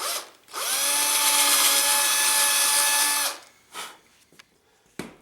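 A power drill spins up and runs at a steady high whine for about three seconds, then stops, followed by a few light clicks and taps.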